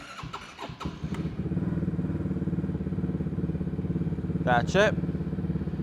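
A small 2024 Yamaha Raptor 110 fuel-injected ATV engine sputters to life, then settles into a steady, fast-pulsing high idle close by, with a brief spoken remark near the end.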